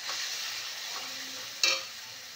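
Potatoes fry in a hot pan with a steady, soft sizzle, then a sudden, louder hiss bursts up as a splash of water hits the pan and fades back to gentle frying.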